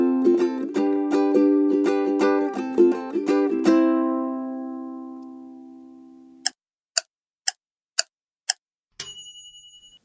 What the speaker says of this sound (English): we just heard the sound of a ukulele